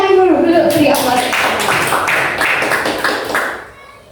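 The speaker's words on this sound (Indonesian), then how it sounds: "Tepuk tangan dulu beri aplaus." An audience at a school teachers' session breaks into applause, a dense burst of many hands clapping up close that gradually fades out over a few seconds, with voices mixed in.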